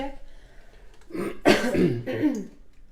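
A single rough, throaty cough bursts out up close, followed by a brief rasp, as if clearing the throat.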